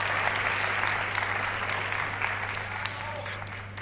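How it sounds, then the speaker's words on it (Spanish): An audience applauds a live painter returning to her artwork during an on-stage presentation at Thinking Party 2011, steady clapping throughout over a low electrical hum. "un aplauso a Carla, por favor"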